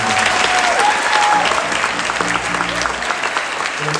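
Audience applause for school band and jazz ensemble musicians at a middle school spring concert, a dense, steady roar of clapping that holds loud throughout with a few faint voices mixed in.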